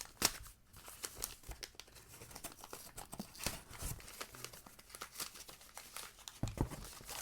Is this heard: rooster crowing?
no